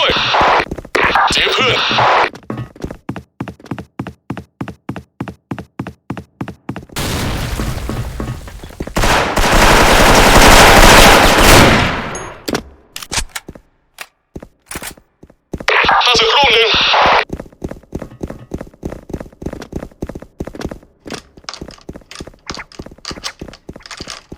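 Counter-Strike gunfire on an AWP clip: rapid bursts of automatic rifle fire in long rhythmic strings, loud and close, broken by a few heavier blasts and noisy stretches.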